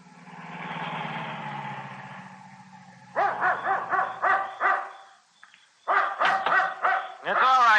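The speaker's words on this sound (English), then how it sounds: "You can stop barking." A dog barks repeatedly in quick bursts after a stretch of speech in a radio drama, the barks loud and close, pausing briefly before resuming.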